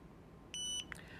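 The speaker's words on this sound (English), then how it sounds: "push the set button and hold it down until it beeps" A single sustained electronic beep from a TST 507 Series TPMS tool as its set button is held, steady and clear for about a quarter second, followed by a short chirp, over faint background hiss.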